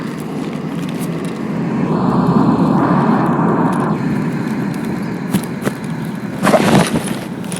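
An airplane flies over in the video game Escape from Tarkov, a broad, steady engine drone that swells through the middle and stays loud, with a few sharp clicks and a brief burst of noise near the end.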